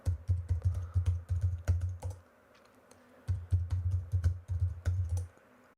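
Rapid keystrokes on a computer keyboard while a password is entered during a local web app setup, two close bursts of steady clicking separated by a brief pause.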